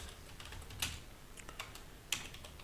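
Rails code is typed on a computer keyboard: soft, close key taps in an uneven rhythm, with two sharper, louder keystrokes standing out in a quiet room.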